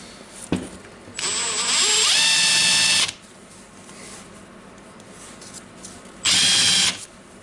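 A repaired Makita DTW1002 cordless impact wrench runs in two bursts, a high whirring whine about two seconds long followed by a shorter one, with a click and quiet pauses between.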